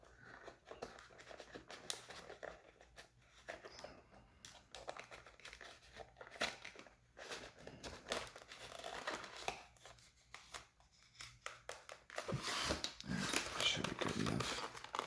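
Plastic crinkles and tears as a Mini GT Toyota GR Supra toy car blister pack is cut open, with close scissor snips and rustling, louder handling toward the end, under low talk.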